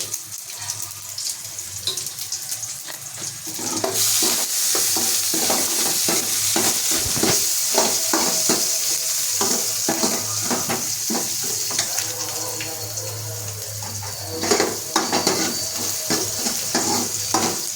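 Mustard seeds crackle and sputter in hot oil over a medium flame while tempering for a Tamil spinach and dal curry, a dense sizzle with quick popping bursts and faint kitchen clatter running steadily throughout.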